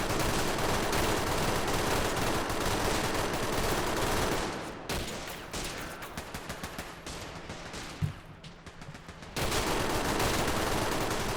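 An MG42 machine gun fires in the World War 2 game Call to Arms during a Normandy invasion battle: loud, sustained automatic bursts amid dense surrounding gunfire, easing into scattered, quieter shots before the heavy fire surges back.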